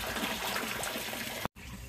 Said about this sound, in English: I'm going to drain it slowly here, too.